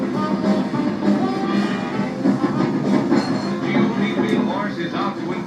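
A 1948 campaign train carrying presidential candidate Dewey rumbles steadily throughout, a continuous rolling rail sound with faint clatter, mixed with a narrator's voice.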